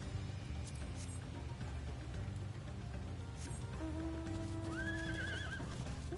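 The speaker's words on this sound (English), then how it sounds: "It's got a bunch of horses." In the video game Final Fantasy XIV, a horse whinnies near the end over a steady noisy background, with faint clopping and murmuring underneath.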